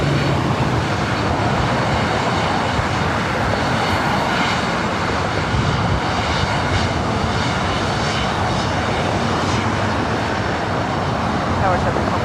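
An airliner on its takeoff roll at LAX sends out a steady, loud engine roar, with radio voices speaking over the noise.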